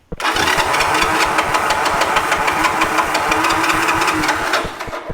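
A Honda TRX 125 ATV engine cranks steadily without firing, a loud, close, rapid rhythmic churning that runs for about five seconds and then slows and stops.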